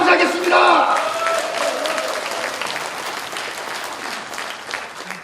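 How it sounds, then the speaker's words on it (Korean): A hall full of delegates at a party convention bursts into applause and cheers, loud at first and then settling into steady clapping that fades slightly, with shouting voices in the crowd. "안민석 후보에게도 아낌없는 박수 보내주시면 감사하겠습니다."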